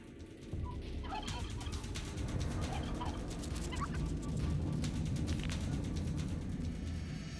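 A wild turkey gobbles amid a dense, noisy outdoor scene, the rattling calls running repeatedly through a steady rumble of background noise and faint overall.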